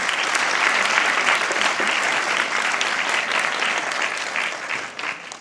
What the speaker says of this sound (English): please feel welcome to hold your applause.